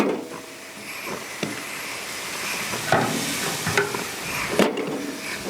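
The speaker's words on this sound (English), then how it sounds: "we got a nice flambe going. I'm going to cook off the cognac." Cognac flambé cooking off over grilled red onions and marinated skirt steak, a soft hissing sizzle broken by a few louder scraping bursts, close and without speech.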